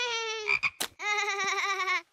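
A cartoon frog croaks in a children's animated series, giving a long, buzzy, harmonic croak, then a brief burst of splashy noise, then a second sustained croak, close and loud with no talking over it.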